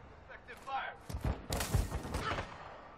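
Gunfire crackles through a video game firefight in several quick bursts, moderately loud, with a voice calling out over the shots.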